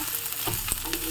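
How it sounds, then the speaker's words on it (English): Onion petals fry in a hot pan with a steady close sizzle, with light stirring taps over it. It belongs to the cooking of crispy cauliflower in spicy garlic sauce. "We'll add the onion petals now"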